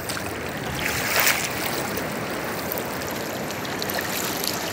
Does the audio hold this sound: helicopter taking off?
no